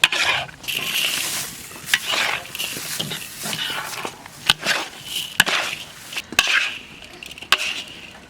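Sunflower seed kernels stirred into melted, reddish-brown rock sugar in a wok, a sticky scraping and rustling that runs steadily with sharp clinks of the utensil against the metal, close and moderately loud, with no talking.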